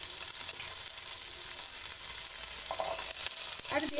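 Lightly fried chicken pieces sizzle steadily in a pan as chopped vegetables go in, a close, continuous frying hiss with brief stirring scrapes and clatter near the end.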